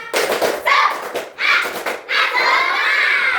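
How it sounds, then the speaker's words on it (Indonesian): Schoolchildren in an elementary classroom perform the tepuk semangat clapping chant, a loud burst of chanted voices mixed with rhythmic claps and thumps, pausing briefly between phrases. "mari kita tepuk semangat terlebih dahulu. Oke, tepuk semangat."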